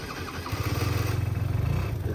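A 2007 Gilera Runner scooter engine is started: a brief starter whir, then the engine catches and settles into a close, steady, pulsing idle with no talk.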